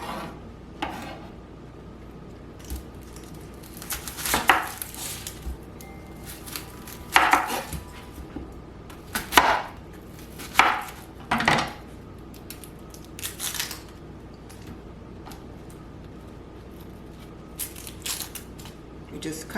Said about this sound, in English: do you really need to show us how to chop up garlic?